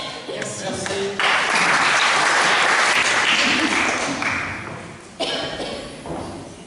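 Audience applause at a twinned-towns meeting on heritage and economy in an abbey in Auxerre, a loud sustained burst of clapping that swells early, holds, then drops and resumes with a brief pause, some thumps mixed in.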